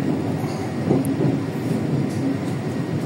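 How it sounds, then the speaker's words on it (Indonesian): Pasundan passenger train rolling through Yogyakarta station, a loud continuous low rumble of wheels and carriages with a steady roar throughout. "Di stasiun Yogyakarta, kereta api Pasundan berjalan langsung."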